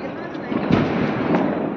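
Diwali firecrackers bursting outdoors at a home on festival night, a dense crackling rumble of several overlapping bangs with two louder bursts, with people talking over it.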